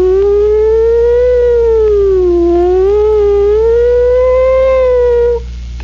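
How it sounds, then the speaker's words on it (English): A wailing siren rises and falls in pitch continuously, loud and steady, then cuts off abruptly near the end. "the sound of a distant, approaching and receding siren"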